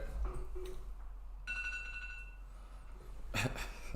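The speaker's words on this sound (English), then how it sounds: "oh, that's an alarm there." A short electronic alarm tone sounds during a live football fantasy stream, a clear steady beep held for about a second and a half, heard faintly in a quiet room with brief low rustling around it.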